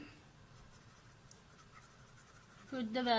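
Pen writing on paper during a mathematics exercise, making faint, soft scratching strokes under a quiet background, before a voice begins speaking at the end.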